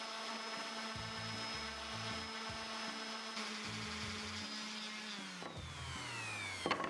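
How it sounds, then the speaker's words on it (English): A power sander smoothing wood on a DIY project, a steady droning whine that runs throughout, with the motor pitch shifting near the end before a few small knocks. "Let's sand it down nice and smooth."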